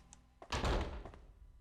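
A door opens in the video game Fatal Frame III, a faint click followed by a close, heavy thunk and a short rumbling swing that fades out.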